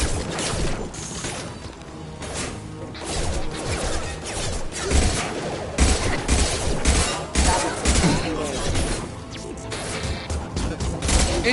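Rapid bursts of gunfire from a Mass Effect 2 firefight crackle and crash continuously, mixed with impacts and whooshes under a dense game soundtrack.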